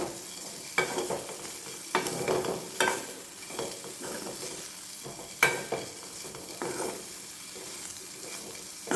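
Soy chunks (meal maker) fry gently over a low flame with a soft, steady sizzle, broken by a series of sharp scraping stirs at irregular intervals, close up, with no talking.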